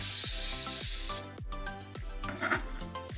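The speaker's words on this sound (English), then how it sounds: "We're going to spray some olive oil into the basket." Olive oil sprays into a preheated air fryer basket in a steady hiss for just over a second, then stops, leaving a quieter background.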